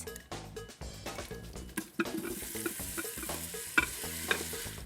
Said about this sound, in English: Ah, I love a good sizzle.